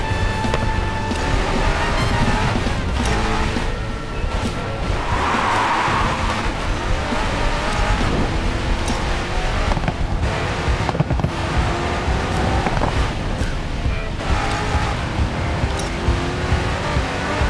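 Bugatti Chiron hypercar racing and drifting in the mobile racing game Racing Master, a loud continuous engine roar with tire squeal and skid noise, plus game effects layered over it.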